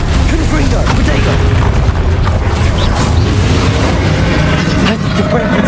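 Explosive Confringo spell bursts in the Hogwarts Legacy video game, a dense rumbling boom that fills the whole stretch at steady loud level, with a voice speaking over the blasts.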